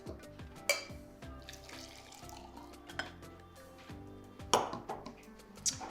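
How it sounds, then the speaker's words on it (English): Boiling water poured into a glass cafetiere over ground coffee, with a light splashing trickle broken by several sharp clinks of glass and metal close by. "And then add your 125 ml of boiling water."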